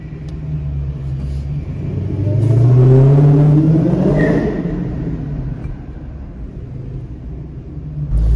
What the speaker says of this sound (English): That supercharger whine is very, very addictive.